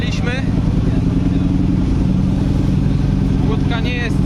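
A steady, loud engine drone from a simple dive boat heading out off Koh Rong, Cambodia, a constant low rumble with voices briefly audible over it.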